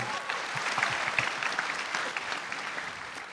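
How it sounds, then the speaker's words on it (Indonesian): An audience applauds a stand-up comedian at a comedy competition grand final, a dense steady wash of clapping with a few louder individual claps near the front. "Tepuk tangan buat Mukmin."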